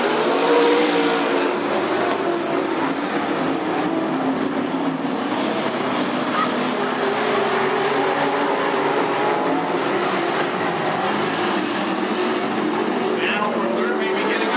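Race cars roar through a heat race at Cottage Grove Speedway, a dense, continuous engine drone with shifting pitch as the pack comes out of the final turn, loud and sustained with crowd-like wash underneath.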